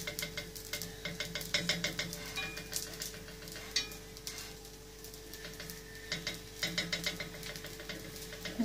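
Barley semolina harcha flatbreads cook in a pan, giving a faint, steady sizzle with soft intermittent scraping and stirring sounds, alone with no voices.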